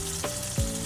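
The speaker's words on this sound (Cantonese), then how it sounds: "我哋校翻個中細火，由得佢喺度煎住佢先" Ribbonfish pan-frying in oil over medium-low heat, a steady close sizzle with a couple of brief louder spits.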